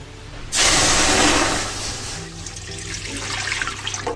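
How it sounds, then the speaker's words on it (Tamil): Water pours into a cooking pan with a sudden loud rushing splash that settles into a steady gushing stream, close and alone, while drumstick poriyal is being prepared. "அதே பாத்திரத்தில் கொஞ்சம் போல் தண்ணி ஊற்றிக்கலாம்"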